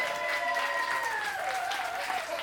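A comedy club audience at a headliner stand-up set claps steadily for the comedian's wife, a dense, even wash of applause lasting a couple of seconds, with faint voices and a held vocal tone riding on top.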